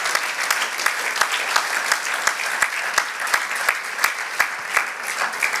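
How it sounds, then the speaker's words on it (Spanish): A church congregation claps in a steady, rhythmic beat, loud and sustained for several seconds. "Dale aplauso al Señor."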